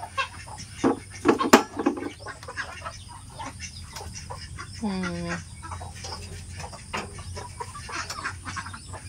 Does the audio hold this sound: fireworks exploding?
no